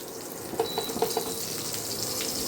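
Nigella seeds sizzle and crackle in hot oil in a wok, a brief bright frying hiss with a few small pops and light clinks early on.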